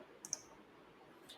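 A single soft mouse click on a save button, heard as two quick faint clicks close together followed by a fainter tick, in a quiet room with no talking.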